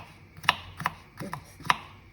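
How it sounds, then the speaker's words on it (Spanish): Knife chopping tripe and vegetables for a tripe stew on a cutting board, four distinct sharp chops spaced irregularly, close and clear with no talk. "Vamos picando."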